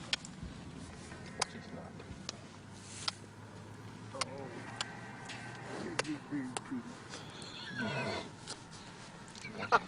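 A horse whinnies a few times amid faint background sounds and scattered clicks, fairly quiet and distant-sounding.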